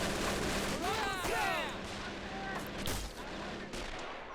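An anti-tank gun fires in the war game Men of War: Assault Squad 2. A sharp, booming shot rises over a busy battle bed with whistling tones, while a voice talks through it.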